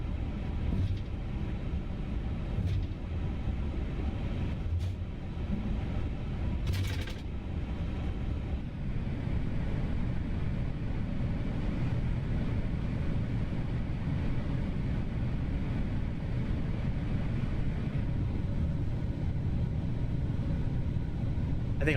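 Airbus A350 engines in a flight simulator on a Singapore Airlines cruise to Jakarta give a steady, quiet, low cabin drone that holds evenly throughout with no breaks.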